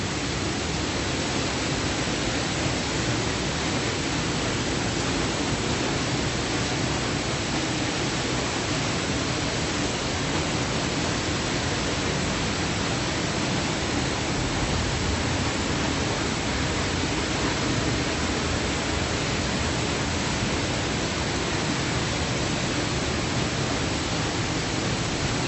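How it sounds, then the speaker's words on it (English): Salto de San Anton waterfall in Cuernavaca, Mexico, heard from behind the falling water as a dense, loud, unbroken roar of crashing water with no other sounds. "Alright, so I'm going behind the waterfall now."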